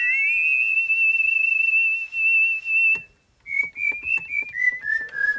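Two whistle-like tones from a Behringer Neutron synthesizer, second oscillator an octave up, glide together in steady pitch, then a pause, followed by a wavering, bending melodic line, imitating two people whistling.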